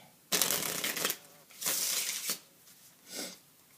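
Three bursts of cards being shuffled, crisp riffling close by, the first two long and the last short, with quiet pauses between.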